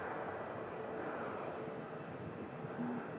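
Ryanair passenger jet touching down at an airport after arriving from Alicante, heard as a steady, broad engine and airflow roar held at an even level throughout, with no voices.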